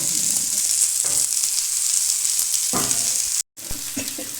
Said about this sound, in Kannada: ಇವಾಗ ತುಂಬ ಚೆನ್ನಾಗಿ ಫ್ರೈ ಆಗಿದೆ